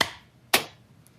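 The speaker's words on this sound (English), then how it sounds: "Let's clap." Two sharp hand claps, close and loud, roughly half a second apart, each ringing briefly before fading, with a tiny faint tap just after.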